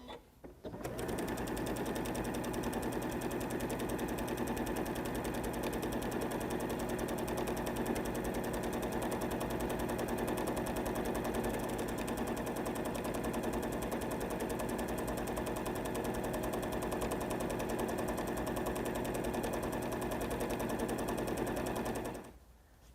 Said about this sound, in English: just sew these right sides together along these 4 long sides on the front and the back of the placemat